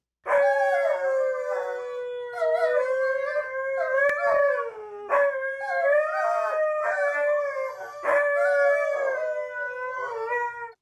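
Several dogs howl continuously in long, wavering tones that rise and fall, with brief breaks between drawn-out cries, loud and close.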